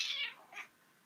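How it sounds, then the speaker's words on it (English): A house cat gives a short, faint meow, a single soft call followed by a fainter second note in a quiet room. "you can hear the cat approaching"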